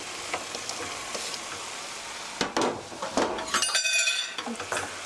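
Chopped tomatoes tipped into a pot of browned chicken for tomato soup, with utensils clinking and clattering against the pot in a short close burst after a steady kitchen hum.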